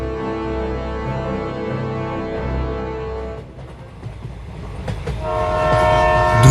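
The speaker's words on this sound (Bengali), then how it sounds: "দ্রুত গতিতে ছুটে চলা ট্রেনটা পৌঁছে গেল সেই সেতুর উপর।" A cartoon train speeds onto a large bridge, loud and sustained, with a long horn blast over the rolling rumble that breaks off into rattling wheels before the horn swells again.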